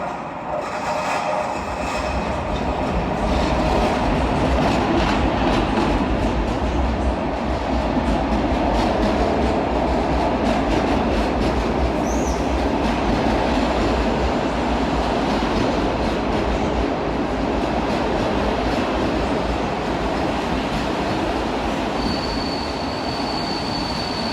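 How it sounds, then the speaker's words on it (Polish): The Intercity Fredro train rolls into Wrocław Główny station with a loud, steady rumble of rail cars and wheels. A high wheel squeal rises near the end as it slows, and no one speaks. "Intercity Fredro wjeżdża pociąg, który ma naprawdę długą trasę."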